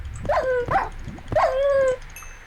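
Two whining, yelping dog calls from a Minecraft wolf, each a short rising-then-falling whimper about a second apart, fairly close and clear over a low game background.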